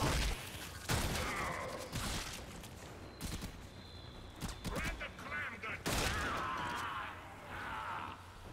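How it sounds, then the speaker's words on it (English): Gunfire in the video game Warframe, heard as repeated sharp bursts and volleys of shots at moderate loudness, mixed with other mechanical game effects. "Who's shooting at me?"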